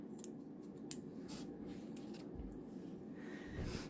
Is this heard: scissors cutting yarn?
yes